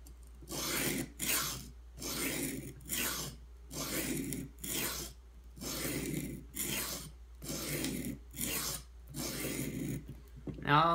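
A Hogue X5 knife is reprofiled on a 120 grit Edge Pro Apex stone set at 18 degrees, about a dozen rhythmic rasping strokes in steady back-and-forth passes with brief pauses between them, close and fairly quiet.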